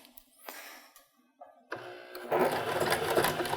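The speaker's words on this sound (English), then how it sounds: "start at the very top edge and you'll sew all the way down to the lower edge" A sewing machine stitching a seam on a cork fabric zippered box pouch: a few short hesitant clicks and whirs, then a sustained rapid mechanical whir running near and loud.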